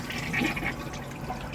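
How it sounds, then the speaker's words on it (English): A toilet flushes inside an Airbnb dome, a brief close rush and gurgle of water swirling down, loud and unbroken with no talk over it. "I actually used the toilet and flush it"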